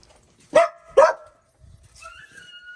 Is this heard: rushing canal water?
no